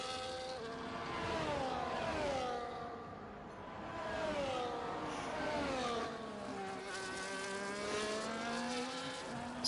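F1 24 race cars lapping Monaco in the closing laps of a league Grand Prix, a steady whining engine drone with rising and falling pitch sweeps as several cars pass and shift, continuous and moderately loud.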